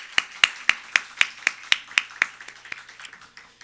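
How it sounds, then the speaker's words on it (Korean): Rhythmic hand clapping from a church congregation during a midweek worship service, about a dozen sharp, evenly spaced claps, fairly close and clear, with no talking over them. "박수 소리도 막 들리고 난리가 나서"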